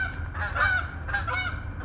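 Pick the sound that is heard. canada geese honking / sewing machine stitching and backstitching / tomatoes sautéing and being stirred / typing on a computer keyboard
canada geese honking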